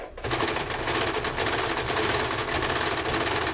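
A domestic sewing machine stitches elastic bias binding onto fabric for underwear, running in a steady, close, continuous mechanical whir that starts almost at once and holds an even rhythm throughout, with no talking.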